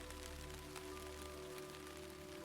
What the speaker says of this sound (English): Rain on the slate roofs.